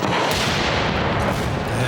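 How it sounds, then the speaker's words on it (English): A propane gas explosion inside a caravan makes a loud, sustained roaring blast that fills the whole clip with dense broadband rumble. "Only a matter of seconds now before the explosion."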